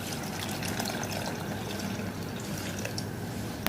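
Water is poured into a Kerala hotel-style fish curry, a steady close liquid rush with a low rumble, continuous throughout.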